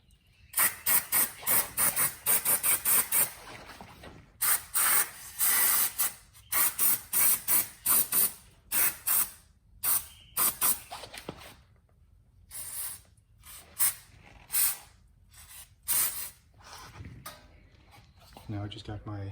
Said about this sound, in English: I want to get some brake cleaner and just spray all the calipers down and the disc and everything